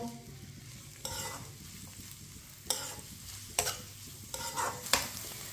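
Chopped onions frying in a pan, a steady low sizzle broken by several sharp scraping stirs of the spoon at intervals, close and moderately loud with no talking.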